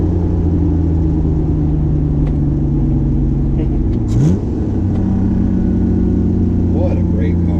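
A 1991 Acura NSX cruising on the road, its engine humming in a steady low drone with a brief rise in pitch midway, heard from inside the car under occasional talk.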